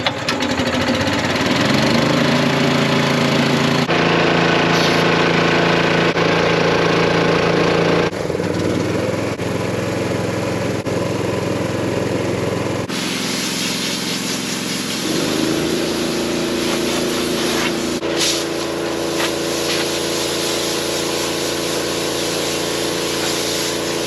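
A hay swather engine runs loudly and close throughout, a steady rough mechanical drone whose pitch and load shift several times, as when the throttle is changed or the machinery engages.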